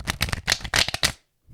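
Close, loud shuffling of a tarot deck: several quick riffling bursts in a choppy rhythm, ending abruptly in silence before a faint tap.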